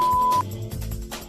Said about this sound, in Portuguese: Ao término do tempo programado, o bip sonoro será acionado.